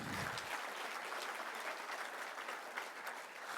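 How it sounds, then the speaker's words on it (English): A crowd applauds the First Lady at the launch of the Beyond Zero Half Marathon, steady and fairly distant clapping sustained throughout. "Please give her a round of applause."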